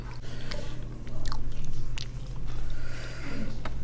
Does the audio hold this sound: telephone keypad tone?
no